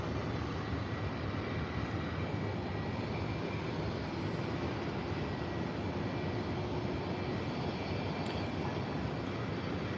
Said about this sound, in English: We got another plane behind an American plane that just pushed back.